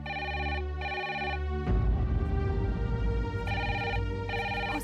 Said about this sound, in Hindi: हो सकता है नाज़िया का फोन हो।